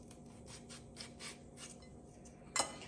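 A julienne peeler drawn along a carrot makes a rhythmic series of soft, close rasping strokes, about one every quarter second, ending in a sharper scrape.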